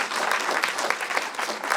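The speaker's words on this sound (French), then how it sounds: "On peut l'applaudir." An audience at a film screening and filmmaker meeting claps in a brief, dense burst, many hands at once with slightly uneven accents, heard on its own without voices.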